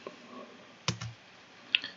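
A few isolated keyboard key clicks, soft and close, with two quick presses near the middle and a single sharper tap near the end.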